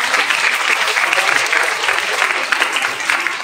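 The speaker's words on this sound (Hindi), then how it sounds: "इस पर्व के लिए आप खुशी से ताली बजा दीजिए।" An audience at a talk on a festival claps together, a dense, loud, sustained burst of applause with no break.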